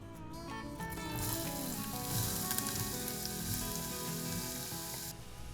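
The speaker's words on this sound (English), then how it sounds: "When the seeds start to pop, add diced onion." Diced onion hitting hot oil with popping mustard seeds, a bright, dense sizzle rising quickly and holding steady and close for several seconds before easing slightly at the end, no voices.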